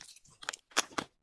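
A dog chews a dried chicken treat, giving several sharp, close crunches at uneven intervals, quiet overall, with no talk over it.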